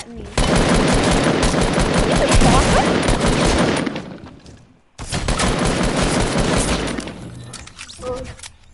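Heavy, continuous automatic gunfire in Fortnite, loud and dense bursts with a short pause before another sustained volley.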